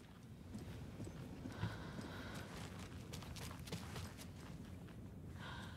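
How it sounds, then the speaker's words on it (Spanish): Horse hooves clip-clop in a steady walking rhythm in the Alan Wake 2 video game, faint and seemingly approaching from a distance over a low ambient rumble. "¡Que viene un caballo!"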